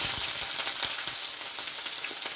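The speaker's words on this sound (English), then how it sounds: "so I'm gonna put my onions in now" Onions sizzle in a hot frying pan while ackee and codfish appetizers are cooked, with a steady, fairly quiet crackling and occasional stirring taps and no voices.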